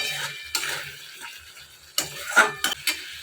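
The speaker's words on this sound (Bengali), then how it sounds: "তো একটু জল দিয়ে কষাচ্ছি।" A spoon scrapes and stirs a spice paste with a little water in a pan, giving a few sharp clinks and short scraping bursts over a low sizzle.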